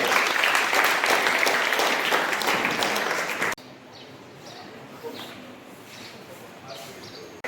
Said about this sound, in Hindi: जोरदार तालियों से स्वागत हर्षिता ढोलिया